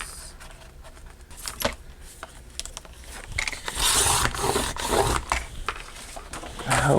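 Sheets of paper being cut in half at 6 inches for a pocket-size traveler's notebook insert: close scraping and sliding strokes with rustling paper, building into a longer run of cutting toward the end.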